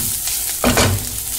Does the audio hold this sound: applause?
no